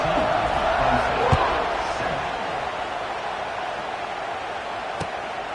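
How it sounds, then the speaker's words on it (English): A stadium crowd in an American football video game roars in a broad, steady wash after a touchdown drive, with a couple of sharp thumps and a commentator speaking over it. "this crowd is feeling themselves after that last drive"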